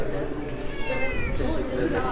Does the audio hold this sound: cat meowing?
yes